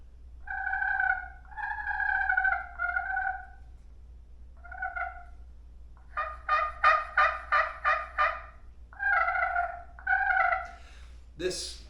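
A turkey slate call worked with a striker produces a series of close, clear yelps in short rhythmic runs, separated by brief pauses, ending with a sharper cluck.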